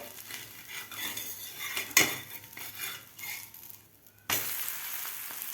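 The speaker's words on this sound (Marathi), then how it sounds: "आता आपण हे पलटी करून घेऊया" Bajra thalipeeth, a millet flatbread loaded with leafy greens, is flipped on a pan: a clatter of spatula and pan against a low sizzle, with a sharp scrape near two seconds and the frying noise swelling louder afterward.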